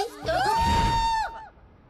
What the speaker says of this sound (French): On pourrait déjà essayer de suivre les cris de Mandy.